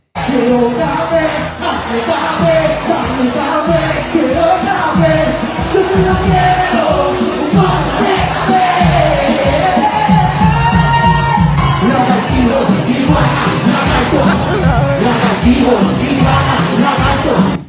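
A packed concert crowd sings along and cheers, a dense, loud wall of many voices with yells and whoops rising over it, continuous throughout.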